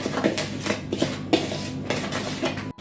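A spoon scrapes and clinks around a bowl of crumbled dry yeast mixture for rose-shaped buns, with a steady run of close, rhythmic strokes and a sharper knock near the end; no one speaks.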